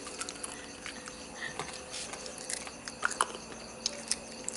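Crunchy chewing of crispy deep-fried chicken frame with bones, close and quiet, with small irregular crackling bites and squishy mouth sounds, no talking.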